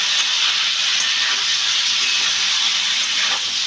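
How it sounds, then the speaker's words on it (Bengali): Ridge gourd and potatoes sautéing with salt in a pan, giving a steady, close, broadband sizzling hiss that holds evenly throughout without talk. "স্বাদ অনুযায়ী নুন দিয়ে এটাকে ভালো করে আমি কষিয়ে নেব।"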